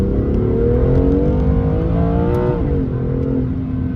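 A BMW M2 CS engine pulls hard in second gear, a loud, close droning rev that climbs steadily in pitch, then dips as the throttle eases near the end.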